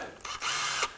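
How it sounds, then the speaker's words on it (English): A power drill priming the oil pump of a Ford FE engine gives a short, loud, steady whine that starts abruptly, holds for about half a second, then cuts off, heard alone without talk. "power drill here"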